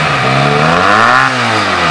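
A Benelli Tornado 302R motorcycle engine revs up and drops back, loud and close, a rough rising drone that falls away near the end.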